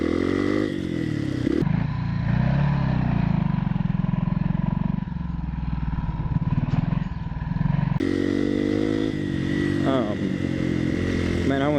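Honda CRF230L and CRF250L dual-sport trail motorcycles ride along with a steady engine drone and shifting revs, loud and close, with a person talking over it.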